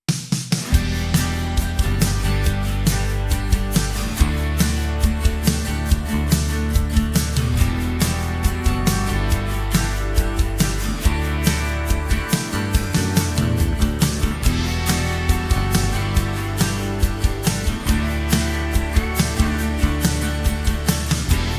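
A full drum groove plays steadily in a band mix with a room reverb plugin, kick and snare punching in a regular rhythm with a roomy, ambient tail around the hits.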